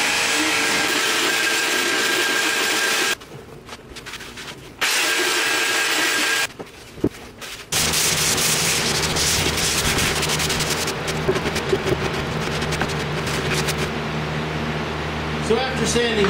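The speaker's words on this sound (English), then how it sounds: "Now I'm just sanding it." Steady scratchy hand-sanding strokes with 220-grit paper on a laminated wooden chess board, loud and close, with the rasping broken off briefly twice before resuming.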